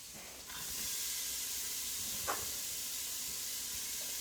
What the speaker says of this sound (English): We're going to add our carrots.